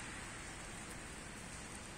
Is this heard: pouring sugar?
no